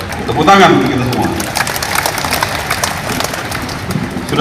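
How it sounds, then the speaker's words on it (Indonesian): Crowd applause rises outdoors at a provincial civil servants' morning assembly in NTT, Indonesia, following a brief shouted voice, then a steady patter of clapping continuing to the end. "Tepuk tangan untuk kita semua."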